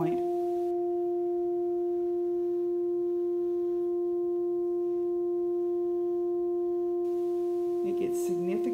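A steady pure tone resonates inside a tube at its resonance point, a constant hum with clear overtones holding level for several seconds before brief rustling noises at the end.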